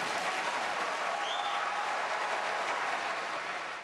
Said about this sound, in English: Rudy Giuliani got the applause.